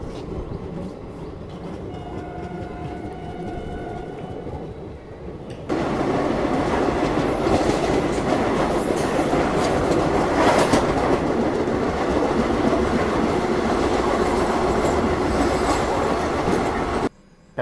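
Indian Railways passenger train rolling along the tracks, a steady rumble with wheel clatter that grows louder and fuller partway through and holds at a constant close, dense roar.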